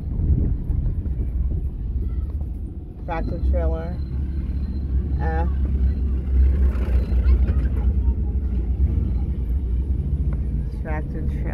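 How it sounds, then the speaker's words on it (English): A heavy tractor trailer rumbles past on a road in The Gambia with a steady low roar and wind buffeting, while people talk over it. "Tractor trailer."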